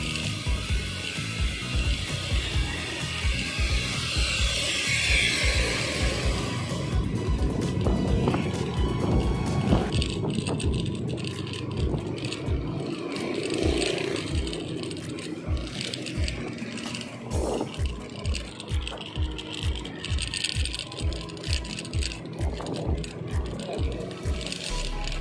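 A concrete mixer truck pours concrete at the NLEX-SLEX connector construction site, its steady mechanical rumble carrying a continuous run of rhythmic clanking pulses throughout.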